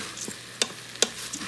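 Fried rice with oyster sauce fries in an Instant Pot, a soft sizzle punctuated by two or three sharp clicks of a utensil scraping and stirring the pot.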